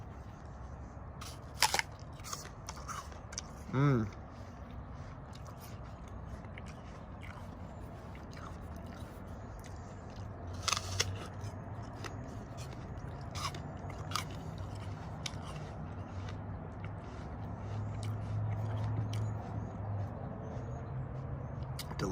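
A crisp, juicy apple bitten close to the mic, a sharp crunch followed by wet chewing and scattered crunches, with a short hum of approval partway through and faint background noise.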